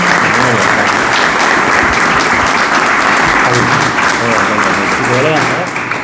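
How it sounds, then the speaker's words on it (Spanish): A packed hall applauds loudly and steadily at a Lenten lecture on Holy Week processions in Abarán, a dense, sustained roar of clapping with faint voices mixed underneath throughout. "Pido un aplauso por todos los que nos dejaron"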